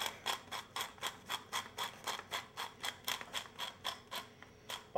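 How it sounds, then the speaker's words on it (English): A hand salt grinder is twisted about eighteen times in steady succession, each turn a crisp ratcheting crunch, close and fairly quiet, with no talking over it. "Maybe another 2 teaspoons or 20 turns on my salt grinder."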